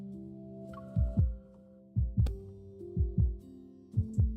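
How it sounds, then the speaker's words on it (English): Heartbeat sound effect in the Love and Deepspace game, four paired thumping beats in a steady rhythm, loud and low over a soft sustained music bed. "I hear my heart beating faster and faster."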